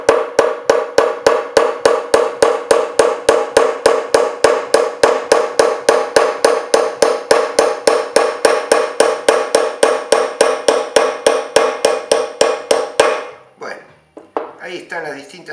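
Chasing hammer striking a flat square punch on metal during chasing work, a fast steady run of sharp, evenly spaced metallic taps, loud and close, stopping abruptly near the end.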